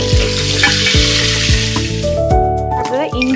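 Curry leaves dropped into hot oil crackle and sizzle loudly for an Onam sadya dish, with close, dense spattering and a few sharp pops over a steady frying hiss.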